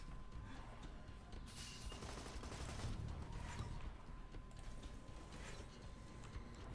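Rapid gunfire bursts from the video game Borderlands 2, with dense overlapping shots and mechanical clatter running through the whole stretch at steady loudness.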